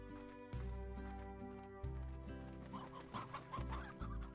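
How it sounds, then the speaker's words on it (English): Hens cluck in a Slime Rancher video game, short repeated clucks over steady tonal game music, moderately loud and close, with no talking. "is this naturally spawning hens?"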